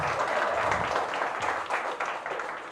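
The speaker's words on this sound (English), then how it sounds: "give them a round of applause" Audience at an outdoor ribbon cutting for a new supportive housing building in West Palm Beach claps briefly, a short, fairly soft burst of mixed clapping with some crowd murmur.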